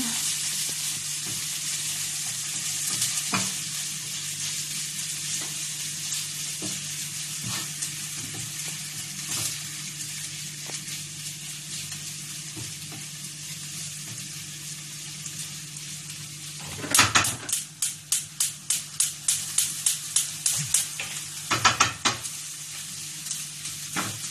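Ginger and garlic frying in a pan for squid adobo, a continuous bright sizzle with scattered stirs, then a quick run of rhythmic scraping strokes near the end, close and unvoiced.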